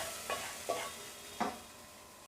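Roasted dal being tipped into a pressure cooker and stirred, three soft scraping strokes spaced apart over a faint background, ending with a short knock.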